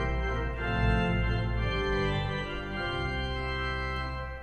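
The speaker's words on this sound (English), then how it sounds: "And a larigo." Larigot stop of the Chancel Organ at National City Christian Church, a dense sustained pipe organ tone with rich stacked harmonics, steady and full in a resonant church, with no talking.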